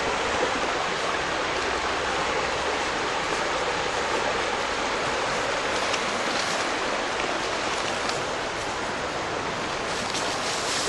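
Stream water rushes continuously near a covered bridge, a loud, steady broadband roar of flowing water with no breaks, close and dominant throughout.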